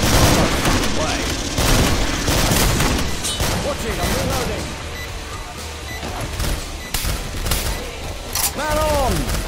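Machine gun fire in a Killing Floor firefight, dense and loud throughout with booming shots, mixed under shouted voices and game speech.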